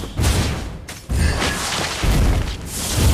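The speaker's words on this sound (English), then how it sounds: "You destroyed a turret!" A turret being destroyed in the video game Mobile Legends: loud, layered booming blasts and rumbling impacts in quick succession with whooshing debris, dense and close, with no talking.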